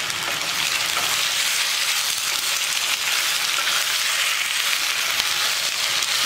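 Vegetable poriyal frying slowly in oil over a low flame, a dense even hiss of sizzling that holds steady and close throughout with no talk.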